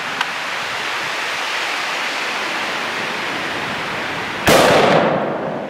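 A single sharp rifle shot cracks near the end during a Washington blacktail deer hunt, loud and close over steady outdoor wind or water noise.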